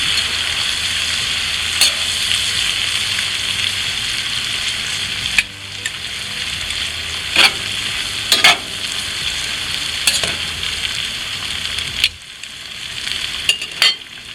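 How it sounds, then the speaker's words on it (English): Peppers and onions fry on a hot Blackstone griddle, a loud, continuous bright sizzle with a few spatula taps and scrapes scattered through it. "we're going to go ahead and add our peppers and onions and get those started softening up"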